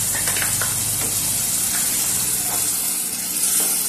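Ground shallot paste fries in hot oil for chicken biryani, giving a loud, steady, close sizzle with a dense hiss that runs without a break, and faint stirring underneath.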